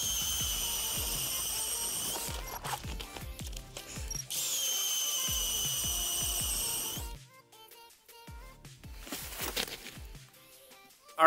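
A power ice auger drills a fishing hole in two long, loud bursts of steady high whine with grinding and clunks, followed by quieter handling and scraping.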